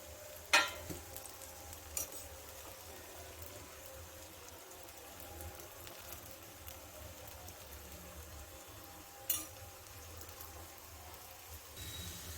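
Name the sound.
raw banana slices frying in a pan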